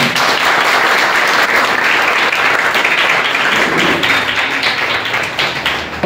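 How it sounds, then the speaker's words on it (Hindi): An audience at a college's first-day welcome program for a new +2 batch claps loudly to greet a guest taking a seat, a thick, continuous wave of hands with some tapping and thumps mixed in. "समस्त तांको ताली मारी"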